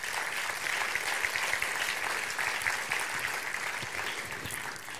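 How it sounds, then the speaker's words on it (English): Audience at a film festival award ceremony clapping steadily, a dense, even wash of applause lasting throughout with no voices. "Round of applause, please."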